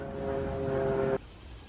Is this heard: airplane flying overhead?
yes